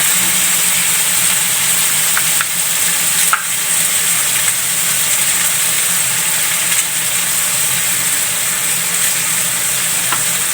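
Shrimp sauté with ground pepper in a pan, a loud, continuous sizzling hiss that holds steady throughout, with a few faint scrapes and clicks of stirring.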